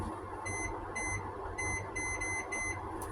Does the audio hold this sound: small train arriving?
no